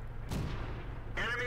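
A BT-7 light tank gun fires in World of Tanks, giving a single sharp boom over a low engine drone, then a brief metallic ringing impact.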